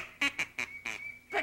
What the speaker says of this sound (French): Des canards, ça s'appelle.